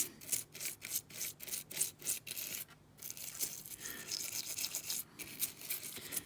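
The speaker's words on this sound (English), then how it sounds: "I'll grab a toothbrush and sort of start brushing on it." A toothbrush scrubs a Flipsky 4.20 electronic speed controller circuit board in quick, rhythmic back-and-forth bristle strokes, close and fairly quiet, with a brief pause midway before the brushing resumes more steadily.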